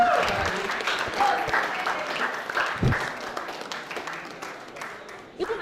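A conference audience applauds during a prize giveaway, scattered clapping that fades gradually under a speaking voice.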